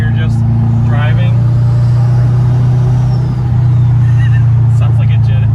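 Steady low Subaru engine drone from inside a moving car, with a constant hum and road noise; a voice speaks briefly over it early on.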